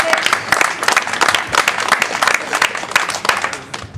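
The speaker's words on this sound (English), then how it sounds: "Come on, big round of applause, everybody." Crowd applause at a deadlift competition, bursts of dense clapping rising and falling in waves, loud and close, with scattered voices from the audience mixed in.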